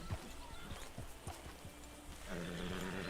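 Horse hooves clip-clop in an irregular walking rhythm in Red Dead Redemption 2, close and fairly loud over steady ambient game noise, with a snort or low vocal sound toward the end.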